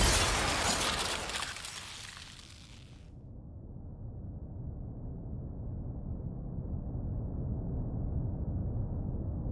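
A sharp, bright glass-shattering sound effect from the visual novel game Tsukihime bursts loudly at the start, then cuts off abruptly after about three seconds, leaving a low rumbling drone that continues alone.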